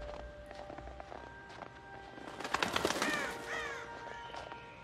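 Crows caw in the video game Until Dawn, several harsh calls clustered in the middle over a quiet ambient bed with faint footsteps and light tones.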